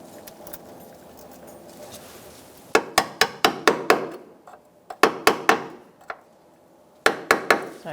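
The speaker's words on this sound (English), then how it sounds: "use a small hammer to get it in there" Rapid series of sharp metallic taps in three bursts, a small hammer striking a spring clip onto a front brake hose of a 2002-2006 Honda CR-V at close range over a faint background hum.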